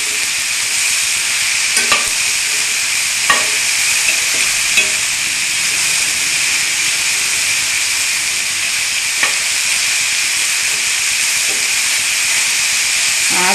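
A yam stem and green gram stir-fry sizzles loudly and evenly in a pan, with a few scattered light scrapes and taps from stirring over the continuous hiss.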